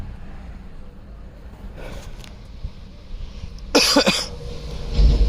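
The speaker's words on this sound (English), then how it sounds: "Man, this sucks having this cough." A man coughs in a couple of harsh bursts, one brief and one louder and longer, close by over a low steady background hum.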